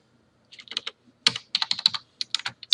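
Someone types a short campaign name on a computer keyboard, quick crisp key clicks in two rapid bursts separated by a brief pause, close and clear with no talking.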